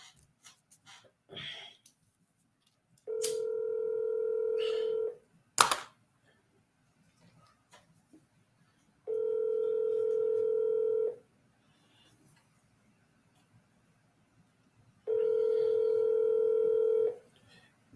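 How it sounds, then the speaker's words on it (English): Telephone keypad tones are punched in, then three long, steady ringback tones follow, evenly spaced with quiet gaps between them and a few faint clicks and thumps. "let me make a phone call"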